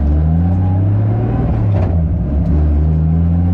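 A turbocharged car engine held under boost, loud and steady with a deep droning tone, its pitch wavering slightly as the wastegate begins to crack open around 12 psi.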